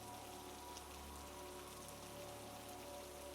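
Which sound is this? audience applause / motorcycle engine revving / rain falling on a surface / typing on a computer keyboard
rain falling on a surface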